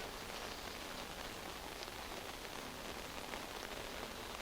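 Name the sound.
heavy rain pouring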